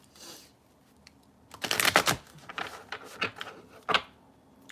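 Tarot cards are shuffled by hand in a few separate bursts of crisp riffling and snapping, close and fairly quiet, with short pauses between them.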